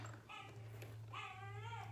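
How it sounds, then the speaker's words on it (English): A puppy whimpers and cries in two short, high-pitched whiny bursts over a low steady hum, faint and somewhat distant. "Oh no, you hear my puppy. He's crying."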